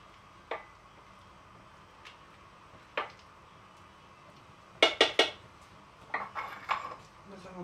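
A spoon scrapes and clinks against a pot while pumpkin soup is stirred together with cream, giving scattered metallic taps and a brief burst of rapid clatter, fairly quiet and close.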